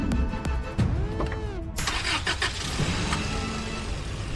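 A jeep's engine cranks and catches partway through, then settles into a steady running rumble, fairly close and loud, with no talking over it.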